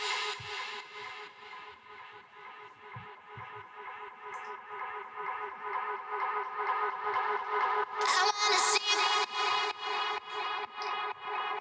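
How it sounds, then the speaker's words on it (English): A music sample is processed with an echo effect that ebbs and swells, its repeating tonal layers building into bright, harsh feedback toward the end, with no voices. "I'm pulling back on the echo to kind of create this,"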